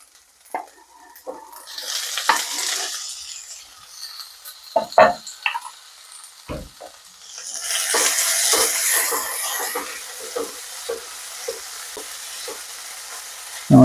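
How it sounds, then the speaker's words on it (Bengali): Tomatoes hitting a pan of fried ginger and garlic for a mixed vegetable curry, a quiet start then scattered stirring clinks and a swelling sizzle midway, with intermittent spoon scrapes. "টমেটোগুলো হালকা হালকা ভাজা হয়ে গলতে থাকবে"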